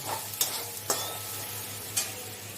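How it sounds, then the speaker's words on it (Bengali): Spices for a rohu curry are sautéed with cumin powder and salt in a pan with a steady frying sizzle. Three or four distinct scraping stirs sound close by, with no talk. "একটু সামান্য পরিমাণে লবণ দিয়ে এটাকে ভালোভাবে একটু কষিয়ে নেব"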